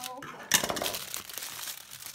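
Gift ribbon is drawn firmly against a scissors blade to curl it, making a sharp rasping swipe followed by crinkly rustling, with a voice faintly in the background.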